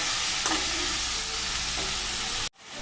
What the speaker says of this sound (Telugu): మనం ముందుగా కట్ చేసి పెట్టుకున్న టమోటా ముక్కల్ని ఇందులో వేసుకుందాం. కరివేపాకు కూడా అందులోనే వేసుకుంటున్నాం.